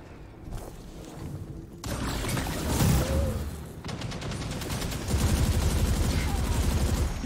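Shotgun fire in a Destiny 2 player-versus-player match: heavy, loud blasts and rattling gunfire that continue for several seconds amid busy game noise, with no talk.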